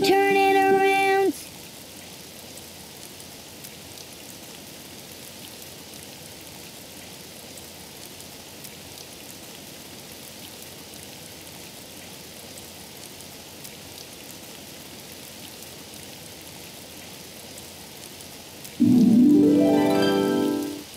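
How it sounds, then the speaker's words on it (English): Steady soft hiss of falling rain fills the quiet stretch, with brief voices at the start and end. "Oh, it's raining outside."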